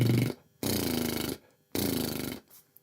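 A person doing a lip trill with good lip tension: two buzzing, fluttering bursts of about three-quarters of a second each, separated by brief silence, close and fairly quiet.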